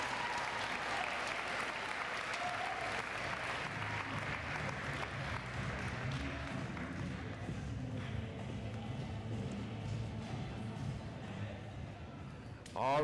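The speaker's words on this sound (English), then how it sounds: "let's give one last round of applause for our varsity track and field team" A crowd at a spring sports awards ceremony claps for a varsity track and field team, sustained dense applause running the whole stretch under some murmuring and cheering before fading near the end.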